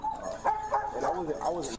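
A dog barks and yips repeatedly in short, excited bursts, close by, with people talking over and between the barks.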